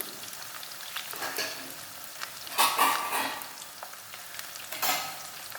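A steady sizzle of vegetables frying in a pan for stuffed tinda, with occasional louder scrapes and stirring, close up and without speech.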